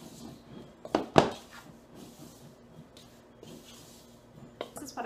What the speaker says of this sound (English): we're going to mix through our strawberries with our wooden spoon, get them all coated